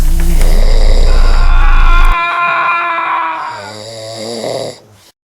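Loud, raspy snoring with a heavy low rumble, followed by softer wheezing breaths that trail off near the end.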